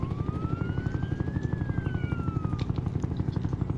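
Steady rapid thumping of video game helicopter rotors, close and continuous, with a rising-then-falling siren-like whine layered over it.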